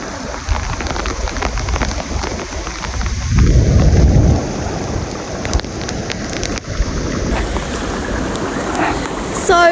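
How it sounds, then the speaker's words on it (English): Steady rain and gusting wind roar close by on a river hike, swelling into a heavy low rumble midway before settling back to a constant wet hiss. "The rain and wind in my face, but it's still a lovely day for it."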